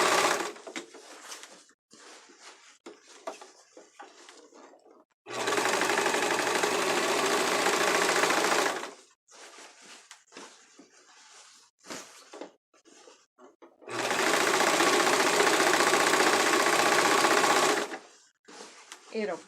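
Sewing machine stitching a tulle skirt in two long, loud, steady runs of rapid whirring, with someone talking in the pauses between them.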